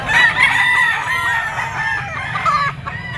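Roosters and stags crow and cluck at a busy outdoor poultry market, a loud nearby crow standing out over a background of other birds, without talk.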